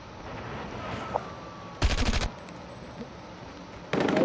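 Machine-gun fire from Call of Duty Mobile rattles out in two sharp bursts, one short volley in the middle and another starting near the end. A quieter in-game ambience hums between the bursts, and no helicopter stands out.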